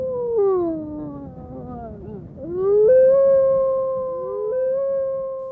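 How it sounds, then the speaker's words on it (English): A single wolf gives a long, clear, wavering howl that dips and rises in pitch, sustained for several seconds with a soft hiss of background behind it. "The howl of a wolf"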